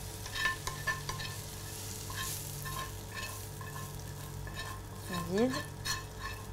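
A potato, bacon and onion mixture stirred in a pan, producing a soft steady sizzle under a few scraping strokes and light utensil knocks, fairly quiet and close.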